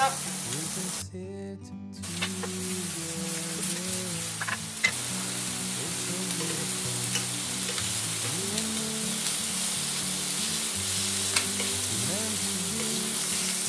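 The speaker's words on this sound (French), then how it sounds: "De ce côté, je vais commencer les oignons. Un petit peu de sel." Onions sizzling in a pan with a pinch of salt, a steady bright hiss with occasional stirring, heard close and alone; the dish being cooked is a spiced lamb kidney recipe.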